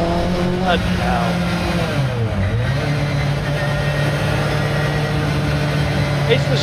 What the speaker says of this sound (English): It sounds like you're being chased by a swarm of bees.